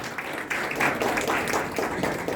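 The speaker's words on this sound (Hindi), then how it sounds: "जोर से तालियां।" Guests at a retirement party clap together in a steady, dense burst of applause that builds after a brief pause, with a voice faintly mixed in underneath.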